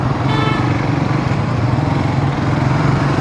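A motorcycle engine drones and revs steadily while riding, a loud continuous buzzing hum with rhythmic low pulsing throughout.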